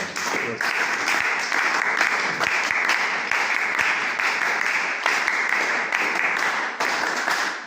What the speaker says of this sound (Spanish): les pido un fortísimo aplauso para el compañero Erasmo Reina Cano.